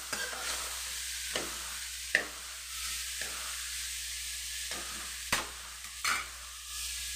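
Vegetables frying and being stirred in a pan on the stove, a soft continuous sizzle broken by several sharp scraping strokes of a spoon against the metal.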